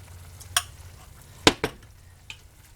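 A spoon scrapes and knocks around a pot of salsa verde for chili verde, a few distinct clanks and scrapes over a faint background sizzle, close and fairly quiet.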